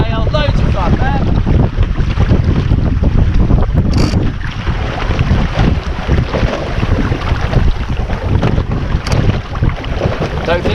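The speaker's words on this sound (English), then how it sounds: "As you sail, look how nice and pointy she is on the wind." Sailboat beating upwind in a regatta at Musket Cove, with steady loud wind buffeting the microphone and rushing water and hull noise throughout, plus faint voices in the background.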